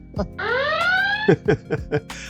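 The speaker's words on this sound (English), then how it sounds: "There's the alarm." An in-game alarm in the factory-building game Satisfactory sounds as a rising, tonal wail lasting about a second, followed by several short pulsing bursts; voices talk around it.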